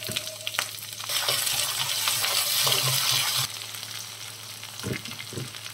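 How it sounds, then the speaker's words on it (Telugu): Sliced onions dropped into hot oil with mustard seeds, cumin and urad dal for tomato upma, sizzling and crackling loudly, then settling to a quieter fry with a few close spatula clinks and knocks. "ఆనియన్స్ వేసుకుంటున్నా అండి"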